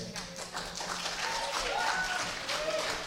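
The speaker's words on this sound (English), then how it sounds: "you both had your applause now" A crowd claps continuously in a dense, steady wash of applause, with voices faintly mixed in.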